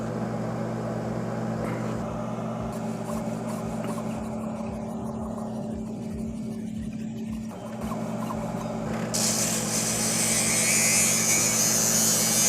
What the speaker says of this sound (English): That's as far as I need to go with the disc sander.